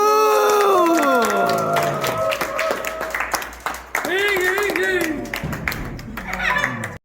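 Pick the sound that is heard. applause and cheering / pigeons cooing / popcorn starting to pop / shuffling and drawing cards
applause and cheering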